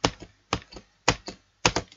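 Keys clacking on a computer keyboard, the space bar adding a faint squeak, in close, sharp taps grouped in pairs with brief pauses between, alone with no voices.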